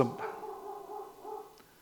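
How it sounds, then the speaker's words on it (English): A dog at home gives a drawn-out, whining bark that rises and then trails off, heard nearby and fairly quiet. "there's my dog"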